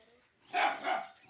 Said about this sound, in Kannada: ನಾಯಿ ಬೊಗಳ್ತಾ ಇದ್ವಿ